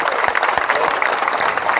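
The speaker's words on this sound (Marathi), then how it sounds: "चांगला वाटलं असेल तर जोरदार टाळ्या वाजवा" An audience applauds after a Dashavatar folk play, a traditional Konkan theatre performance, with a steady dense wash of clapping that continues throughout.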